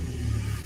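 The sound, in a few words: car engine starting and revving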